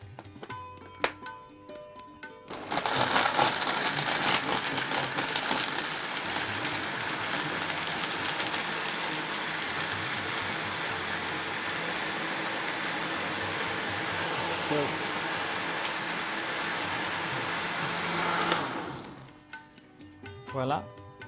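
A blender whirs loudly and steadily, blending soursop juice with ice for about fifteen seconds before winding down, with brief clatter before and after.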